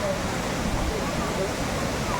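The Seetharkundu waterfall in Palakkad gives a brief, steady broadband roar of rushing water, with voices faintly audible over it.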